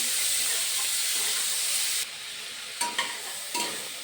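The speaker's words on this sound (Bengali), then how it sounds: "তেলেতে দিয়ে দিলাম বেশি করে ভাজবো না" Shrimp seasoned with salt and turmeric fry lightly in oil, giving a steady close sizzling hiss that thins out halfway through, followed by a few brief stirring scrapes.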